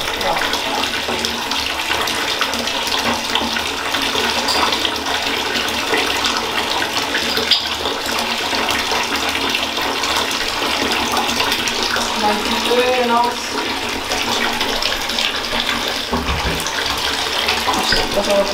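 A bathtub steadily fills from a running tap for a Lush bath product, a continuous broadband gush of water heard close and alone for the whole stretch.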